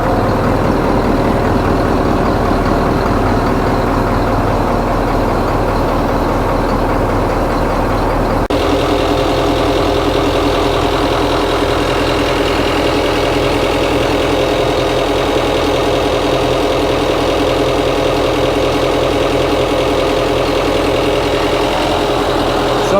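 An 8.2L Detroit Diesel marine engine runs steadily aboard a boat, a loud, continuous low rumble with a knocking diesel texture that holds level throughout, no voices.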